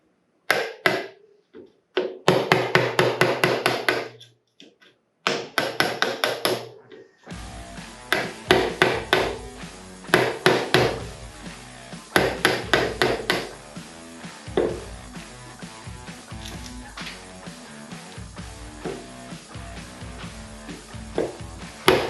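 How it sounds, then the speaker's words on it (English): Hammer blows drive a rasp with a chisel end into wood to break out a non-laminated piece on a Donkey Kong arcade cabinet under restoration. The strikes are loud, sharp and repeated in rapid clusters with brief pauses, then they continue steadily, close by. "I found this rasp with a chisel end on it, so we're going to use it."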